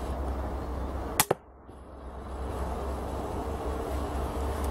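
Man Kung MK-80 pistol crossbow firing a shot, a sharp double snap of the string and bolt release followed by a quiet room hush.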